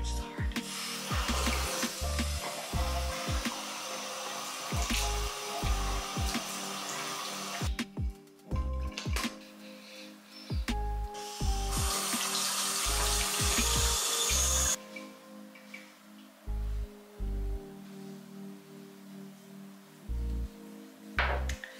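Tap water runs into a bathroom sink during one-handed washing, a close, continuous splashing hiss with scattered knocks and thumps, easing off in the last stretch while light rustling continues.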